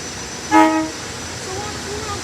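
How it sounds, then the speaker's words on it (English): A single short horn toot sounds from Warminster train 418's passenger rail cars as they depart, followed by steady low rail and engine rumble. "Here we got the Warminster train, 418."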